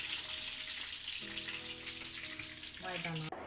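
Cabbage schnitzel made from young cabbage is lifted out of hot frying oil, a soft continuous sizzle and bubbling with faint tonal hums underneath, fairly quiet and steady throughout, with no talking.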